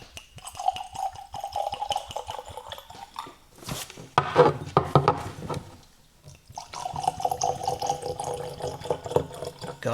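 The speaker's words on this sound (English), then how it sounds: "let's get a little pour and let this thing swirl up a little bit" Knob Creek Single Barrel bourbon poured into a glass, a liquid trickle and splash in two bursts with a brief clink of glass between them, close and fairly loud.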